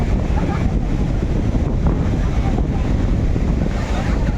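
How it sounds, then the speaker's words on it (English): Strong monsoon wind roars and buffets the microphone steadily on a beach on Boracay Island, Philippines, with surf rumbling underneath and no clear voices. "So windy here now, guys, on the front beach."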